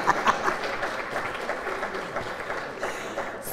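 Audience applause at a school renaming dedication ceremony for Manor High School, a steady wash of many hands clapping at moderate distance for a few seconds with no talk over it.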